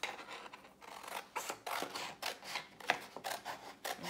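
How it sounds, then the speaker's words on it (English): Scissors snip through paper to cut out rectangles for a zinnia painting collage, a string of short crisp cuts and rustles in an uneven rhythm, close and alone. "Now I'm just going to cut out some rectangles that are at least as large as"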